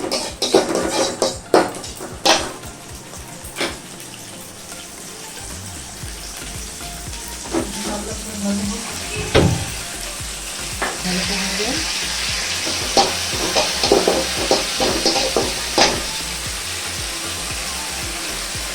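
Spices frying for chana dal, with onion, tomato and a cumin tempering in hot oil: loud, close sizzling and crackling with repeated scraping stirs and clanks of a utensil against the pan, plus a few brief sharp knocks.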